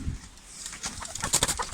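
Chickens cluck and chatter nearby in short, uneven bursts over a noisy outdoor background; there is no talking.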